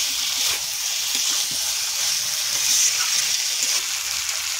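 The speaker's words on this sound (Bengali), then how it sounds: "এবার বেগুন আর আলু দেব, সঙ্গে আর একটু কষিয়ে নেব।" Eggplant and potato frying in spiced oil, a steady close hiss and sizzle with a few faint pops and scraping sounds running throughout.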